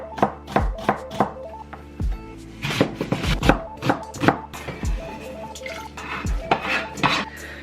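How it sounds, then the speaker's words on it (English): A knife chops carrot and onion on a cutting board in quick, uneven bursts of loud, close thuds, with occasional clinks of kitchen utensils between them. "I'm just gonna chop everything else in there"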